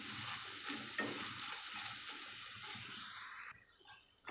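Boondi fries in hot oil and is turned over, a close steady sizzle with soft stirring scrapes that fades out near the end.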